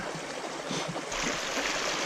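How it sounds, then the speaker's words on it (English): A dog splashes and runs through a shallow wild trout stream, loud continuous churning water close by, with no talking. "He runs out in the water splashing around."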